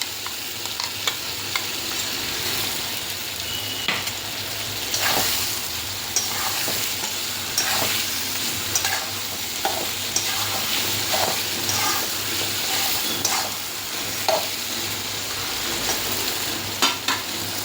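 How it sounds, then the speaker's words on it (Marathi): Spice paste is stirred and fried into a stuffed brinjal and potato curry made with black khurasani masala, giving a close, steady sizzle broken by repeated scraping and clacking of the spoon against the pan, with no talking. "छान परतून झाल्यानंतर हे जे वाटण आहे ते याच्यामध्ये टाकून घ्यायचं आहे"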